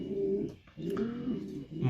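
Pigeons cooing in a breeding loft, with low, throaty rolling coos repeating steadily through the moment, fairly close and clear with no talking.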